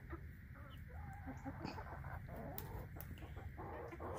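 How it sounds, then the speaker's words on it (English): Chickens clucking on a small farm as they run around on the ground, several birds giving soft overlapping clucks and brief calls over a steady outdoor background hum, fairly near. "trying to count a bunch of chickens running around on the ground"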